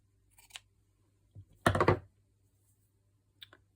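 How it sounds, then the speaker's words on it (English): Scissors cut through pink spotty fabric in a few short, quiet snips, with a brief crunching cluster in the middle and faint clicks before and after in an otherwise silent room. "I'm going to cut a piece."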